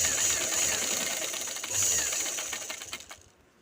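A sewing machine stitches a quarter-inch folded hem on pants with a fast continuous mechanical whir and clatter close by, slowing and stopping near the end.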